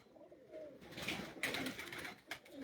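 Pigeons coo softly on a rooftop, low throaty murmurs at a faint distance with a few light rustles and higher chirps mixed in, no voices.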